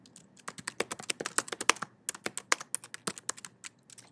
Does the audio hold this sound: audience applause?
no